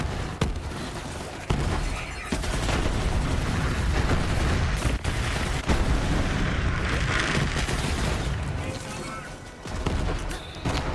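Grenade explosions and gunfire in Borderlands 3, a dense, continuous barrage of booms, shattering blasts and rapid shots with sharp bursts standing out throughout.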